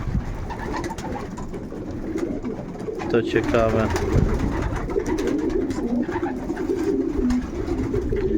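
Pigeons coo repeatedly inside a pigeon loft, soft rolling calls close by over a busy, rumbling background, while someone speaks briefly.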